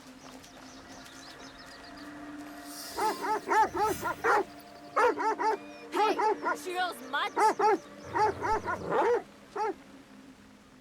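A dog in the video game Assassin's Creed Shadows yips and whimpers in repeated short bursts over a low hum, with a brief line of speech early on.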